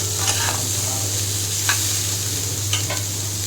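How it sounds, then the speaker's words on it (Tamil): Shrimp, broccoli and paneer stir-frying with butter and garlic in a hot pan, a steady close sizzle with a few brief spatula scrapes, no voices. "இப்போ இதை எல்லாத்தையுமே அழகாக நல்லா மிக்ஸ் பண்ணி விட்டுக்கோங்க."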